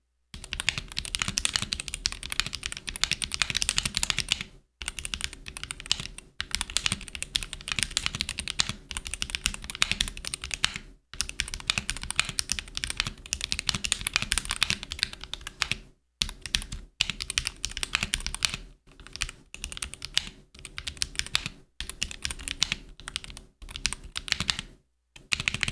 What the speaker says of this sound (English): I will do a little sound test for you guys, just to show you guys how good this keyboard actually sounds.